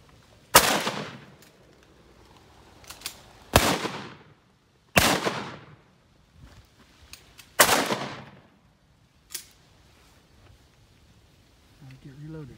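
Shotguns fired during a duck hunt, four loud close blasts spaced a couple of seconds apart with decaying echoes, followed by a fainter distant report, voices talking in between.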